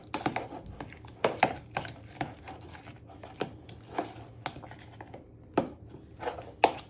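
Spoon stirring prawn cocktail sauce of mayo and chives in a bowl, a run of soft scraping and tapping knocks against the bowl at an uneven pace, close and fairly quiet with no voice.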